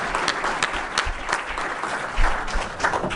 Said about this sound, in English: I think if we can all give them a great round of applause